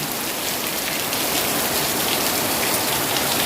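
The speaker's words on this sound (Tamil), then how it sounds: "அப்படி மழையாக இருக்குது ஸோ ஸோ வந்து பாருங்கள்" Heavy rain pours down in Jaffna, a dense, even hiss of drops striking surfaces close by, steady and unbroken throughout with no voices.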